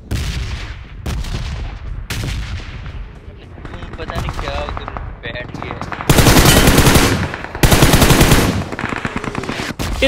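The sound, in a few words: gunfire in PUBG Mobile video game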